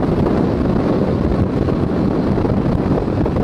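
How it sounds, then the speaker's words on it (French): Wind rushing at a rider on a motorcycle, a loud, dense, unbroken roar of air buffeting the microphone, steady from start to finish with no voices. "je prends quand même du vent dans la gueule"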